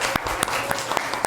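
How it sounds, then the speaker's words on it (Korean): Brief applause of encouragement from a church congregation for a young third-grade performer, with a few distinct sharp claps standing out over a soft, uneven background. "우리 우빈이에게도 격려의 박수 부탁드립니다."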